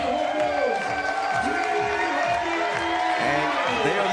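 Home crowd at a 3x3 basketball Olympic qualifying tournament cheering loudly for Hungary, a dense continuous roar of voices and whoops with a commentator talking over it.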